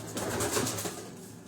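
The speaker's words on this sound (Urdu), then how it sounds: "ابھی آپ یہ دیکھیں کہ یہ کبوتر یہ رات کو بھی، ابھی اسی کا یہی خانہ ہے اس کبوتر کا" Pigeons cooing inside a rooftop loft cage, a soft, steady burble of coos close by with no talking.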